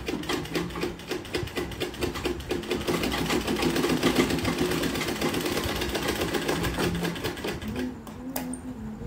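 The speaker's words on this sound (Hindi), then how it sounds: "जैसे हमारा नेक का शेप है उसी तरीके से हमें इसमें सिलाई लगाते जानी है" A sewing machine stitches around a blouse neckline, running in a steady, fast rhythmic chatter for several seconds before slowing and stopping near the end, close and fairly quiet.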